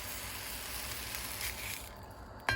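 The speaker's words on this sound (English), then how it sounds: "Can you hear it sizzling?" Steady frying sizzle from a frozen Nutrisystem grilled chicken sandwich in a hot pan, a constant crackling hiss, with a brief clatter near the end.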